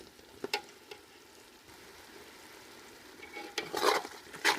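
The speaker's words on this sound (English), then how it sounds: "we're just going to give it a quick stir" A spoon stirs a dark, salted braising mixture in a pan for Cambodian braised pork organs, giving a few soft scrapes early on and louder scraping bursts near the end over a quiet background hiss.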